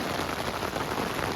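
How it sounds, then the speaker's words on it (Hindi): Heavy rain pours steadily on a mountain campsite in Kyrgyzstan, making a dense, loud, unbroken hiss of drops close by. "ये दोबारा बारिश शुरू हो गई है।"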